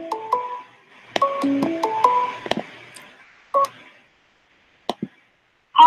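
Telephone keypad tones beep out a dialed number in quick DTMF bursts, followed by a few sparse isolated beeps and silences.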